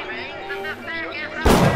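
A single loud gunshot from the video game Bioshock bursts out near the end, preceded by someone talking over the game.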